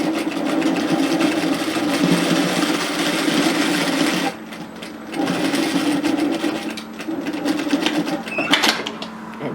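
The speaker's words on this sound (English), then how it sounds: "stitch a seam at 1 centimetre" Sewing machine stitching a 1 cm seam on a knit teddy jacket pocket, a loud close whirring run that pauses briefly, then resumes with a few clicks near the end.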